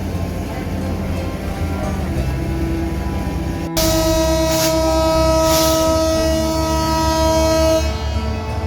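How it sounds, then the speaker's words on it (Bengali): The 716 Down Kapotaksha Express, bound for Khulna behind a 6600-series locomotive, pulls out of Azimnagar railway station from platform line 1, its loud horn sounding in a long sustained blast over the rumble of the departing train. "716 ডাউন কপুতাক্ষ এক্সপ্রেস নির্ধারিত যাত্রা বিরতি শেষে আজিমনগর রেলওয়ে স্টেশন 1 নম্বর লাইন থেকে আবারও ছেড়ে যাচ্ছে খুলনা অভিমুখে"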